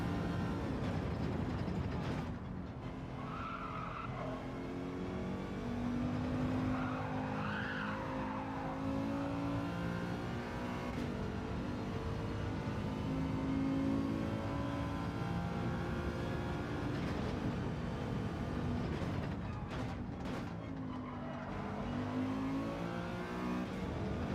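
Race car engine in the Gran Turismo 7 video game, a steady loud roar with shifting revs and squealing tyres through the whole stretch, alone without voices.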